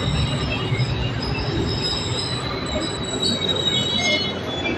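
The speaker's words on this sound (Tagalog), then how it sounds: "So, nasa LRT na sa loob." Inside a moving LRT light rail car, the wheels squeal in a steady high whine over a continuous low rumble of the train.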